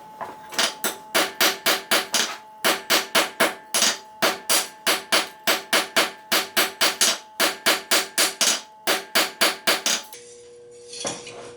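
A hammer rings sharply on steel while forging fork tines to a finer point, striking in quick rhythmic bursts of a few blows separated by short pauses, loud and close, ending in a quieter metallic clatter.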